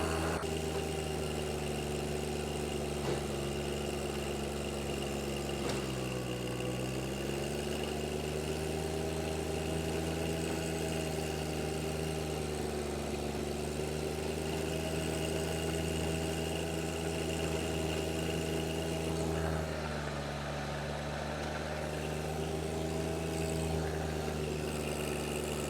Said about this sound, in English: it seems to be doing a better job of tilling this sod than I expected.